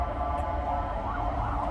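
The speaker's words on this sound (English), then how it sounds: "There are some sirens." Emergency vehicle sirens passing through a city street, a steady wailing tone sitting over a constant rumble of traffic noise, moderately loud and continuous throughout.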